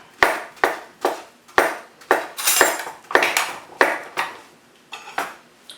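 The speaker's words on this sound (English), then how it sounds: "Just going to do a quick chop." Knife chopping bananas on a board: about a dozen sharp, evenly spaced chops with bright ringing clinks, close and loud, with no talking.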